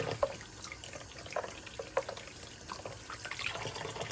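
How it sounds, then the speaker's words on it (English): Giant pumpkin seeds being rinsed under running water, with faint trickling and scattered drips and splashes close by. The sound is quiet and there is no talk. "Give them a nice little wash."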